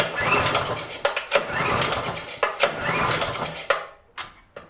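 A Predator 6.5hp 212cc engine on a Wards snowblower is cold-started, with repeated bursts of recoil-pull cranking and sputtering catches. Each attempt dies off, and the cranking is loud and close.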